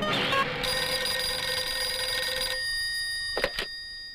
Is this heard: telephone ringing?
yes